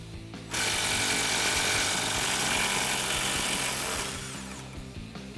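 A tool spins a 17 mm socket to back out a front shock bolt on a 2005-2021 Toyota Tacoma during a leveling-kit install. It makes one loud, close, continuous mechanical burst lasting about four seconds, with no talking.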